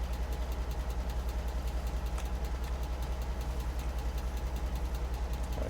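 A truck engine idles in the Alaskan Road Truckers driving game, played in VR: a steady, low, pulsing rumble that holds evenly throughout, with no talking over it.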